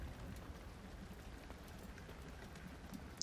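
Steady rainfall in the horror game Amnesia: The Dark Descent, a soft, even patter of drops that stays constant throughout with no other sounds over it.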